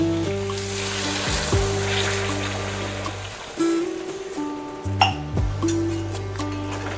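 A glass of hot water pours into potato curry in a pan, with a brief watery rush and splash after some clinking of utensils, all heard up close.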